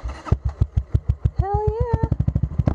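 Motorcycle engine on a lithium battery cranks and fires up, then settles into a loud, rapid, lumpy idle with steady pulsing beats close by; a brief whistling tone rises over the engine partway through.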